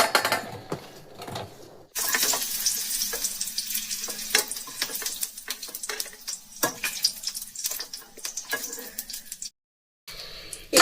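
Cauliflower florets sizzle and crackle in hot oil in a pan while cooking for a white vegetable pulao, with loud, steady frying broken by clinks and stirring, then a brief silence near the end.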